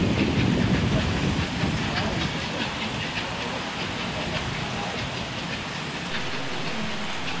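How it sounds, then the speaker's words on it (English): West Country class steam locomotive Wadebridge drifts quietly into a station with its train from Bishop's Lydeard on the West Somerset Railway, a soft steady rumble and hiss with faint rail clatter, a little louder at first, then even. "approaching us from Bishop's Lydeard, is Wadebridge once again, the West Country locomotive, with her train drifting quietly into the station"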